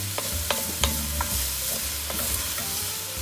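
Garlic, onion and mushrooms fry in a pan for risotto, a steady close sizzle with a spoon stirring and tapping against the pan in a few light knocks, no voices.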